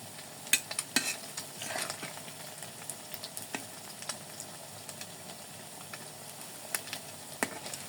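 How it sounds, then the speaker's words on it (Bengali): Leftover bread rolls sizzle steadily in a frying pan, shallow-fried until crisp, with frequent sharp clicks and scrapes from stirring and turning scattered throughout over a constant hiss. "এটা ভালো মতো ভেজে নেব।"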